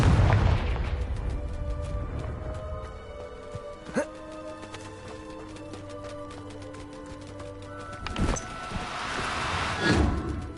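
A Confringo blasting curse explodes in the video game Hogwarts Legacy, with sharp booms and bursts at intervals over ringing tonal game effects and a low hum.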